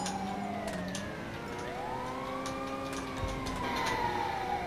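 An ambulance siren in a video game wails with rising and falling tones. It is clear and fairly close and overlaps a second passing siren, over a low rumble of traffic and ambient game noise.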